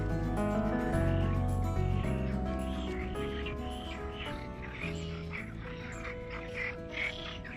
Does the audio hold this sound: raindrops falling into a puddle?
no